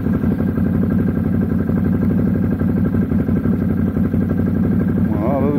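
A motorcycle engine drones steadily and close up on a rough, rainy track in Croatia, with a continuous clattering throb and a brief voice near the end.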